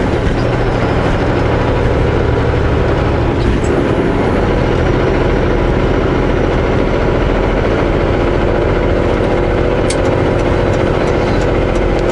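Heavy truck engine with an automatic transmission pulling up a climb, a loud continuous drone with rumbling vibration and little change throughout.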